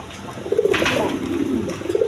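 Breeding pigeons coo in low, steady, throaty notes close by, with no talk over them.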